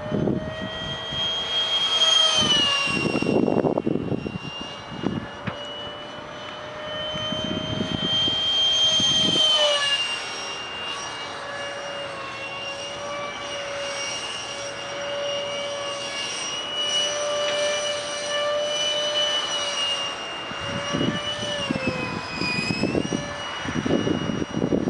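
A 70mm EDF jet engine on a stealth-style drone prototype during thrust vector testing, a loud steady high-pitched ducted-fan whine that rises and falls with throttle, with bursts of wind-like rush throughout.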